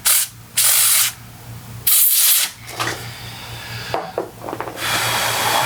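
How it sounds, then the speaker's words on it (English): Alcohol-based contact cleaner sprayed onto the internal connections of an iMac, heard as several loud hissing bursts, each about half a second to a second long, with softer handling rubs between them and no talking. "I'm going to spray these connections and make sure that they are getting good contact"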